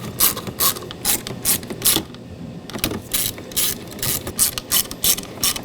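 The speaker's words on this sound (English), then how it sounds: "I'm going to start the 2 screws in at the back just because they're easier to see" Small screws are started into the plastic trim of a master power window switch on a 2012-2017 Toyota Camry, giving a run of quick clicking ratchet strokes in short bursts close by, with a brief pause midway.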